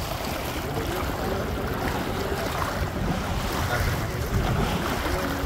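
A boat ride on a lake in Udaipur, Rajasthan, with steady broadband water and wind noise throughout, continuous and fairly loud with no clear voices.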